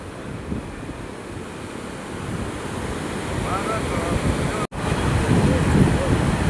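A river overflowing after heavy rain rushes in a continuous broad roar that grows slightly louder, mixed with wind buffeting the microphone and one sharp dropout.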